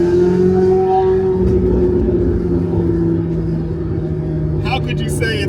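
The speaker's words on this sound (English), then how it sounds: "probably one of the most beautiful sounding V8 cars in the world today." A Chevrolet Corvette C8 Z06 V8 holds a loud, steady, droning engine note close by, with a slight pitch drift, and a few sharp clicks near the end.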